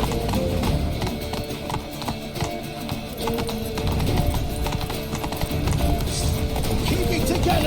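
Horse galloping in The Witcher 3: Wild Hunt, a steady, close clip-clop of hoofbeats running throughout, layered under game music and voices talking.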